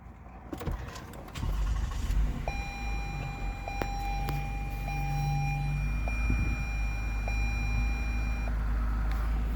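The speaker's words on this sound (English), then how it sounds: "put your foot on the brake and press the engine start stop button" A 2021 Lexus RX350 starts with a push-button: a quiet, steady low engine hum settles in while a series of short electronic chimes ring out and a soft motor whirs in the background.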